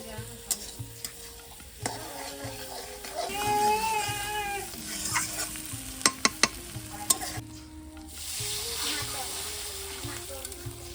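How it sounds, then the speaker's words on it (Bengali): Eggs frying in a pan for an egg and potato curry, a continuous sizzle punctuated by stirring scrapes and a few sharp metallic clinks, with a voice speaking over the cooking at moments. "এবারে ভেজে নিচ্ছি ডিমটা"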